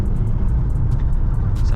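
A Chevrolet Lumina SS accelerates, its engine a loud, continuous low rumble heard from inside the car throughout the short stretch.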